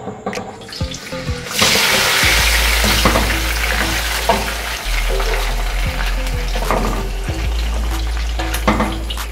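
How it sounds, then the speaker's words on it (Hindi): Marinated mutton chops with yogurt masala drop into hot oil in a kadhai and sizzle loudly and steadily up close, with occasional clinks and stirring scrapes over a low burner rumble. "कढ़ाई में ऑयल डालने के बाद ये जो हमने मैरिनेट करके चॉप्स रखी थी ये इसके अंदर डाल देंगे।"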